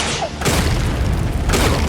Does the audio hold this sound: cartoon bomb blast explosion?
yes